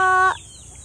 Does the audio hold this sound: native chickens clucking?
yes